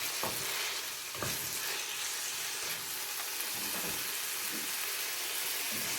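Spring onions are stirred into tuna fried rice in a pan over medium-high heat, giving a steady close sizzle with scraping spatula strokes throughout.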